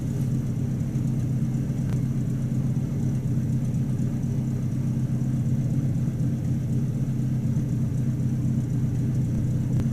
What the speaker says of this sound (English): Idles down real nice.